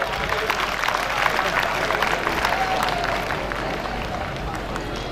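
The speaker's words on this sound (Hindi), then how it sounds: "हम चाहेंगे कि नन्हे मुन्ने बच्चों के स्वागत के लिए तालियों से स्वागत करें ताकि इनका उत्साहवर्धन हो।" Applause from an audience at a ceremony at Ramlila Maidan honouring talented students, sustained dense clapping that stays steady and fairly loud through the whole stretch, with faint crowd murmur beneath.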